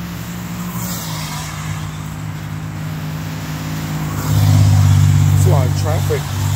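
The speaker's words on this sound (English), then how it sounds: "It's a lot of traffic." Road traffic streams past on a street during a walk to a Dunkin' Donuts: a steady engine drone, with a louder car swelling close by near the end.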